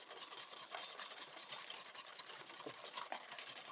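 Ricotta donut batter is stirred in a bowl, a continuous soft scraping and rubbing with a quick, even rhythm, close and fairly quiet.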